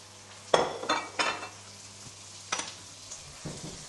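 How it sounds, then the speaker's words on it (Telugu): Washed mutton added to frying onions in a pressure cooker, with several sizzling bursts and scraping stirs, plus a few metal clinks of a utensil against the pot, close and moderately loud. "సో ఇప్పుడు మనం మంచిగా నీట్గా వాష్ చేసి పెట్టుకున్న మటన్ని కుక్కర్లో వేసుకుంటున్నాం."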